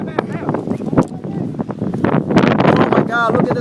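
Strong wind gusting across a microphone outdoors during a storm, rough roaring buffets that rise and fall while people talk and shout excitedly over it.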